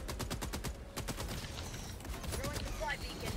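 Heavy machine gun fire in Helldivers 2, a rapid continuous stream of loud close shots with brief pauses, voices talking over the gunfire.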